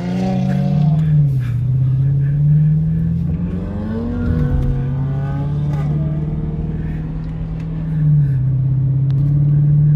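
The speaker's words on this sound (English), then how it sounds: "That muffler delete sound good, man." Dodge Charger R/T or Challenger SXT, both 2020, rumbling loudly through an exhaust with a muffler delete, with a steady deep idle, a rev that rises and falls around the middle, and brief voices underneath.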